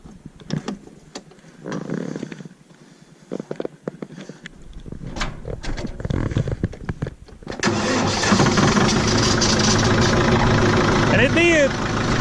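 A farm tractor engine turns over in several uneven, grinding cranks, then catches around the midpoint and roars into a loud, steady run close by. A voice speaks near the end.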